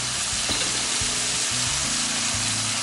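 Shrimp stir-fry with basil hisses loudly in a hot pan as shrimp fat and fish sauce go in, a dense continuous sizzle broken by the repeated scrape and clank of a spatula against the pan.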